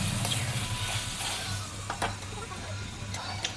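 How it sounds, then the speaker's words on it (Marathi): Poultry chicken, already fully cooked, stirred and frying in a pan with tomato and masala paste for biryani, giving a steady low sizzle with scattered scraping clinks from the spoon, close and continuous, with no talking. "मस्तपैकी मिक्स करणे"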